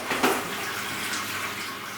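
Soluble oil coolant poured back into a machine tool's reservoir gives a steady liquid splashing and trickle, with a brief louder splash near the start, close by and alone.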